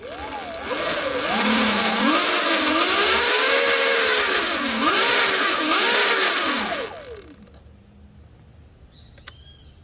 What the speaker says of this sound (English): We turn on the bike with the rear wheel on the air, and we slightly accelerate.